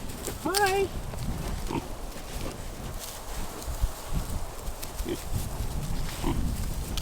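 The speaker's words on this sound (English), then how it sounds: "They're just called little piggies." Piglets on a ranch giving a few grunting oinks amid rustling and shuffling nearby, with people talking softly throughout.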